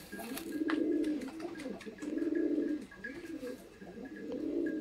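Sialkoti fancy pigeons coo close by in a loft, repeated soft, low throaty rolls in a rising-and-falling rhythm, with a few faint chirps and clicks between the calls.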